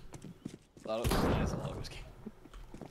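An arcade shooting video game lets off a sudden loud burst of rapid gunfire that decays over about a second, with quieter game noises and faint voices around it in a busy arcade.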